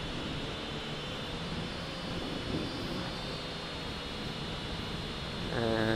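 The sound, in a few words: Fineco FX-6C camera drone hovering and rotating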